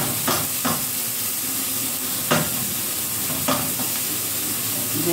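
Chopped onion fries in hot oil previously used for frying cauliflower, with tomato juice added, giving a steady, loud sizzle and hiss with a few sharper spits and stirring scrapes throughout.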